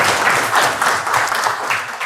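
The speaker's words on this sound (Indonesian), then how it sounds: "tepuk tangan dulu buat kita semua sekalian ya" A room full of people claps together, a loud, dense burst of applause with no voices.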